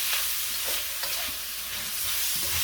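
Sausage bits sizzle steadily in a hot pan for fried rice, a continuous loud frying hiss with occasional stirring scrapes and no voices.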